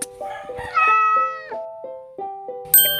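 A cat meows repeatedly, a run of clear, close, tonal meows in quick succession over about three seconds, with a brighter sound cutting in at the end.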